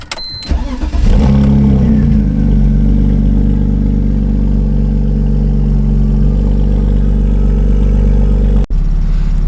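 A BMW E46 coupe engine fitted with poly engine and transmission mounts cranks and catches, then settles into a loud, steady cold idle while warming up, with a brief dropout near the end.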